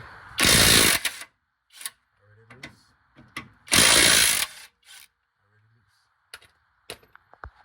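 A mid-torque impact wrench loosens a bolt during transmission work, firing two loud, harsh bursts of roughly half a second to a second each, separated by quieter clanks and handling noises. Brief voices come in between.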